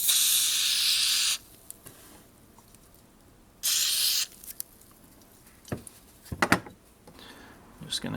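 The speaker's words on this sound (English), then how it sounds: "I'm going to give a bit of a squirt with some ballistol and start cleaning it" Ballistol lubricant is sprayed onto an old 1965 Camillus army-issue utility knife in two sharp hissing bursts, the first about a second long and the second shorter, followed by close clicks and handling noises.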